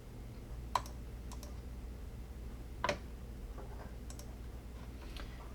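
Computer mouse clicks while browsing a website, heard as a few sharp, isolated clicks spread over a quiet room background with a low steady hum, and no speech.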